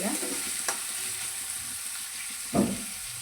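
Banana stem stir-fried in a pan for a palya, giving a steady soft sizzle with a few louder stirring scrapes, close and without any voices.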